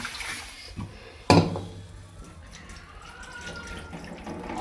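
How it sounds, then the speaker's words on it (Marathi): Water sloshes as food is rinsed in a vessel, with one sharp knock of a pot early on, then gentle swishing. "चांगल्या पाण्याने एकदा धुवून घेते."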